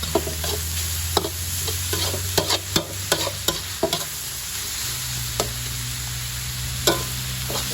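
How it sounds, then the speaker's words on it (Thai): Pickled bamboo shoots being stir-fried in a hot pan, with repeated spatula scrapes and clacks over a steady, close sizzle and no talking. "พัดให้มันแห้งๆน้อย"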